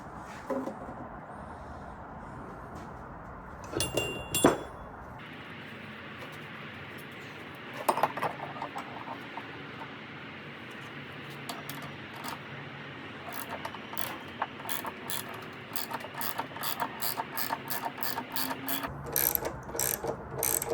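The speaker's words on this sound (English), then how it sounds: "start tightening this one to get this new bearing pressed in" Wrench tightening a nut on a press tool to drive a new wheel bearing into a Honda CRX hub; faint, close ratcheting clicks, sparse at first and then coming in quicker regular runs over a low steady background.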